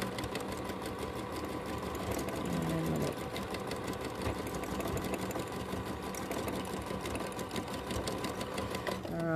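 A sewing machine stitching down the base of a fabric tote bag, a fast steady mechanical whirr running nearly the whole time, close and prominent, with a voice talking faintly over it.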